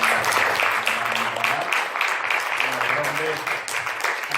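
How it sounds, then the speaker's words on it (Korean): A church congregation applauds a clarinet performance during a worship service, steady full clapping throughout with a voice talking over it. "우리 힘차게 한번 격려의 박수 한번 보내주시기 바랍니다"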